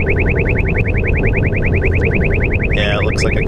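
A Uniden R3 radar detector sounds its warning alert inside a car, a loud, fast, steady train of chirping electronic beeps that changes to a different tone near the end, over road noise.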